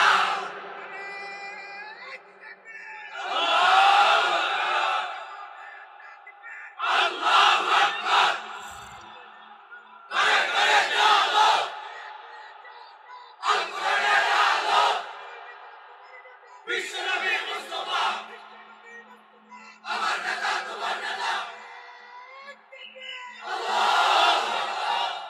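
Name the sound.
young men chanting slogans at a rally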